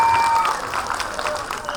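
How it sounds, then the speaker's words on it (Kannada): Applause from an audience at a hospital-day cultural programme on stage, a dense, steady patter of clapping filling the short stretch, loud and close. "ಚಪ್ಪಾಳೆ ಬಂದಿರ್ಬೇಕು ಜೋರಾಗಿ"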